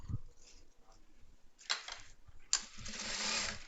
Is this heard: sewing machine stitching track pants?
yes